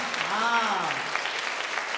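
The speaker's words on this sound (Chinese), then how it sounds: "在这个地方我们拍手欢迎他们，我们拍手欢迎他" A church congregation claps in welcome during a Sunday worship service, steady applause from many hands filling the room for a couple of seconds, with a voice briefly heard over it.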